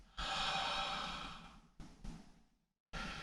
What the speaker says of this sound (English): So I'm breathing in and standing up, breathing out and sitting down.